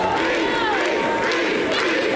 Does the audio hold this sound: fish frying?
no